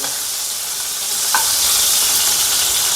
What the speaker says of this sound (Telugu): వాటిని ఫ్రై చేసుకుందాం ఒకసారి మనం వేసిన టమాటోస్ని కలుపుకొని